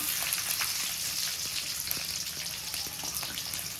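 Small shallots and garlic sauté in hot oil with a steady, close crackling sizzle and scattered pops, even and continuous throughout without any voices.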